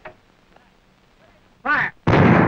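A 75mm pack howitzer fires one loud, sharp round at close range, preceded by a brief spoken command and quiet background.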